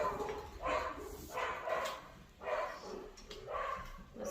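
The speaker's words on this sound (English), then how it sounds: "don't mind my dog" A dog barks indoors in four spaced bursts, each a short cluster of moderately loud woofs with pauses between, heard somewhat off at a distance.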